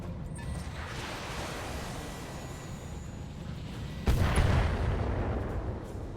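Weapon fire and impact in the BattleTech game sound as a steady roaring rumble that jumps into a louder blast partway through. No voices are heard over it.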